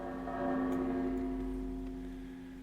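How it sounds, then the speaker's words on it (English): A bell rings once in the World of Warcraft video game, a single faint tone with a sustained hum that slowly fades over a couple of seconds, alone with no talking. "This is the ringing the bell."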